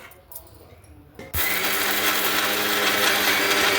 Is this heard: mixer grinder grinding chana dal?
yes